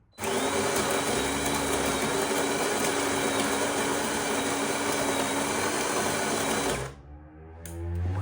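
A 2019 De'Longhi PrimaDonna S Evo coffee machine grinding beans for espresso: a loud, steady whirring drone lasting about seven seconds, then cutting off abruptly and leaving quieter mechanical sounds after.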